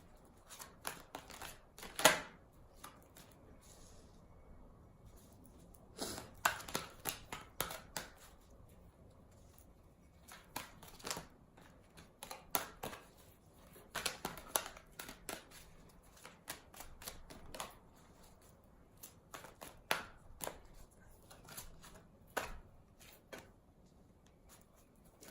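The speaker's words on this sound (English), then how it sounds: "I'm just going to shuffle, get your cards out" Tarot cards being shuffled by hand, bursts of crisp riffling and flicking in irregular clusters with short pauses between, close and fairly quiet, no talking.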